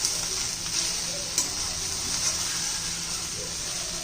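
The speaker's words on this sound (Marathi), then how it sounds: "आपली मसाला भेंडी बघा छान लागते अजून मधून सारखं हलवत राहायचं आहे" Spicy masala okra fries in a pan, giving a continuous close sizzle with light stirring noises and faint scraping throughout.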